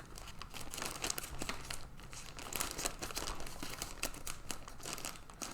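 Plastic packaging from a Shein parcel is torn and crumpled open by hand, giving a continuous close-up crinkling with irregular rips and rustles throughout.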